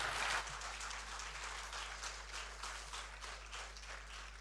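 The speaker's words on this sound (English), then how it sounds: "Please, can we give Mr. President another round of applause, please?" A crowd at an official ceremony in Ghana gives the President sustained applause, even and moderately distant, over a heavy low mains hum.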